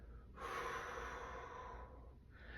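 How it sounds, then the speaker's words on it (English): A long, breathy exhale during a yoga side-body stretch, close and steady for about a second and a half, then fading into soft room tone. "Or perhaps we exhale."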